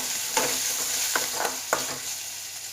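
Onion and garlic frying in a pan for amaranth leaves gassi, a close, steady sizzle of oil with a few sharp ladle taps against the pan.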